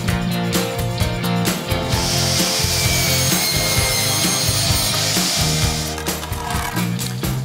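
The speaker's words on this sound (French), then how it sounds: "Alors là, tu vois, Julien, après une coupe, on peut se rendre compte que la lame n'est pas traitée à cœur." A wooden deck board is sawn through with a rapid, loud rasping of blade on wood, steady back-and-forth strokes heard up close for the whole stretch.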